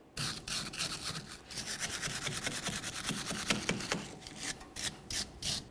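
Rapid rhythmic scrubbing and brushing strokes close up as debris is cleaned off the rear brake caliper area of a 1999-2006 Chevrolet Silverado 1500, in quick bursts of rasping friction.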